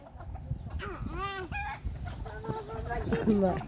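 Close-up chicken clucking and short squawks from a rooster, with a faint voice or two in the background.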